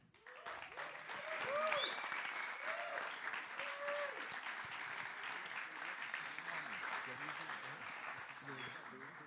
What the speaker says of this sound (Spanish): quiero que le demos un muy fuerte aplauso al maestro William Maestre